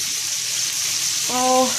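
A pot of about 2 quarts of water nearing a boil for Mexican meatball soup gives a steady bubbling hiss, with a brief higher ringing tone near the end and no talking.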